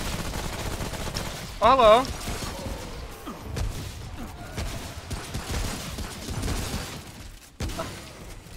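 Gunfire in the video game Remnant from the Ashes, a few scattered shots amid busy combat noise with a brief tonal warble, while a player talks over it.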